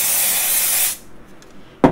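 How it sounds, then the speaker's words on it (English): A steady, close hiss of dry shampoo sprayed onto wig roots for about a second, then quiet, ending with a brief knock. "And you just spray it on that root."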